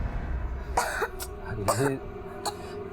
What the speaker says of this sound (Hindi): खांसी के साथ साथ बुखार भी हो गया इसे।